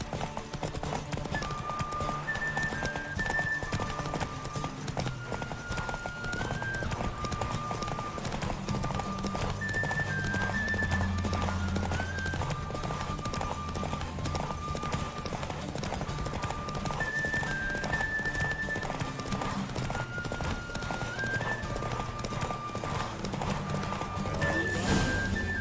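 Horse hooves galloping steadily in The Witcher 3, the rhythmic clip-clop of the horse Roach continuing throughout alongside game music, with a brief rider's call.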